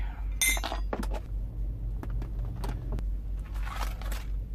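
Spoons clink against a dish while scalloped potatoes are prepared in a cramped space; several sharp close metallic clinks and scrapes over a low steady hum, no talk.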